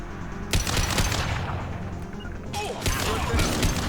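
Rapid gunfire in the PC shooter Mass Effect 2, with dense bursts of automatic shots and sharp impacts coming in two long volleys separated by a short lull, loud and close.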